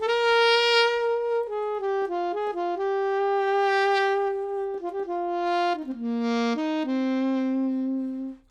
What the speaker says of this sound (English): set of alto saxophones. If I play them in a unison, it sounds like this.